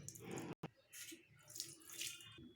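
Boiled elephant foot yam leaves being rinsed by hand in a pot of water, soft sloshing and splashing in faint irregular bursts, close by, with no talk.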